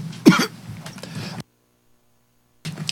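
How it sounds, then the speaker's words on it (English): A single sharp cough bursts out amid a man's low, close voice, followed by a stretch of near silence before faint room sound returns. "You heard a little of my cough."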